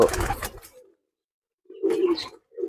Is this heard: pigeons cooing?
yes